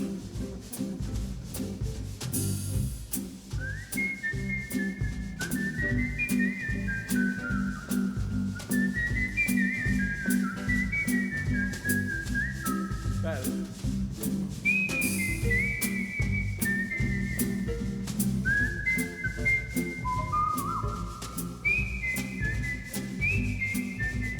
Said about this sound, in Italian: so fischiare, fai sentire un fischiettino